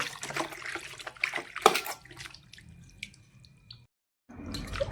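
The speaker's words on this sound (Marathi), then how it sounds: "चिकन धुवायला पाणी घेते" Water splashes and drips in a basin as raw chicken is washed, with irregular trickles and small splashes, then a brief pause before running water resumes.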